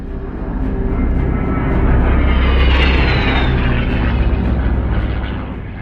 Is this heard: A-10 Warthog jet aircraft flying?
yes